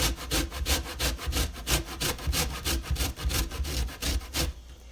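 A small hand grater takes the zest off a whole orange with close, rhythmic scraping strokes, about a dozen in quick succession, steady and fairly loud, ending abruptly just before the clip closes.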